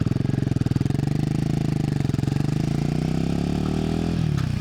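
Royal Enfield Himalayan 450 single-cylinder motorcycle idling up close, a steady fast chugging pulse that swells slightly in pitch with a touch of throttle, then eases off near the end, with no speech.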